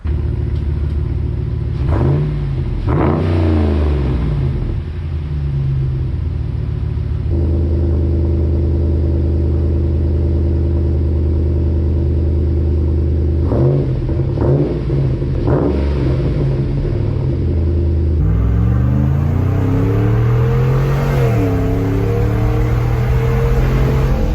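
A Ram 1500 5.7 HEMI V8 with shorty headers idles with a deep, loud rumbling burble, punctuated by several sharp revs that rise and fall, close up and sustained throughout.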